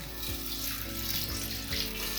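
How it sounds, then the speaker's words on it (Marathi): Toor dal and rice being rinsed in water for Khandeshi khichdi: a steady, close rush of running water with a few soft knocks against the vessel, alone without speech. "आणि हे दोन तीन पाण्याने स्वच्छ धुवून ठेवायची डाळ"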